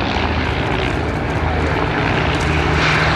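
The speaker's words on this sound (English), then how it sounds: "powered by 2 130 horsepower Gypsy Major engines, the same engine as the Foxmoth and the Tiger Moth" A de Havilland Dragon Rapide biplane with two 130-horsepower Gipsy Major engines at an air show, giving a steady, fairly close propeller drone that swells a little near the end.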